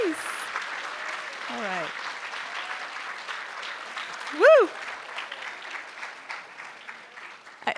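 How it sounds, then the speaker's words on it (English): An audience at a university credential ceremony applauding mentor teachers, a steady, fairly distant sustained clapping with a whistle and a brief voice over it. "let's clap now"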